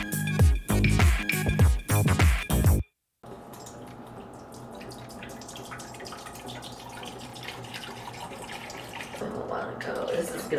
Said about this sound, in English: You have a faucet right behind me.